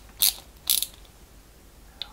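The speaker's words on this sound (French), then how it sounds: "on la visse à l'intérieur avec la vis type D" A screw is driven into a 1/8 scale 1989 Batmobile model, giving two short bright ratcheting clicks of a screwdriver close by, then a faint third tick, in quiet surroundings.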